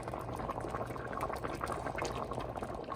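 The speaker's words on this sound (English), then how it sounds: "turn the temperature down so you keep it at a nice low boil" Rigatoni pasta bubbling at a low boil in a single pot of pink garlic sauce, a steady close churn of rolling bubbles and liquid burbling with no voices.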